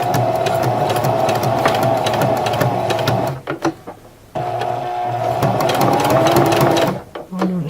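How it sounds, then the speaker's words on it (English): A sewing machine fitted with a zipper foot runs in steady close bursts of tacking stitches, pausing briefly to back up before stitching again, with a voice talking over it. "I happen to have left the zipper foot on my machine from the last time"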